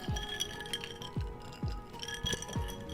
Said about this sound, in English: I also have some iced water as well, because it sounds nice, but it's just water.